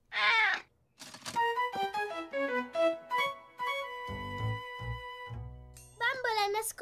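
A high, wavering cat meow from an Italian-dubbed Caillou cartoon, heard at the start and again at the end, with plinking toy-like tones and light thunks in between.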